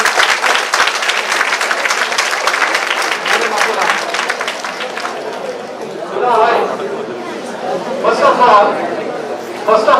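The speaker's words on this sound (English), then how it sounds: "We should all give a very, very sound applause to" Audience applause fills a college hall, dense and steady for several seconds before thinning into scattered claps and murmuring chatter, with a few brief renewed bursts toward the end.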